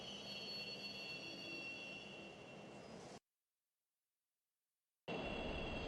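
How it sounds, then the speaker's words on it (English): Train in the Shin Megami Tensei III Nocturne game, a steady loud rumbling run with high whining tones that cuts to total silence for about two seconds, then resumes just as loud. "do not rush onto the train. The door is now closing."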